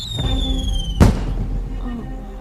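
A signal firework's high whistling streak ends in a single sharp bang, followed by a fading crackle over a low background hum.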